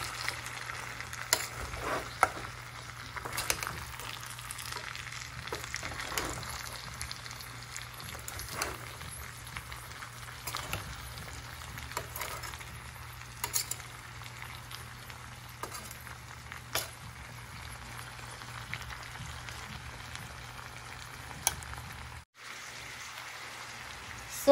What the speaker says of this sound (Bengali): বুটটা এখন ভালো করে কষিয়ে নিচ্ছি।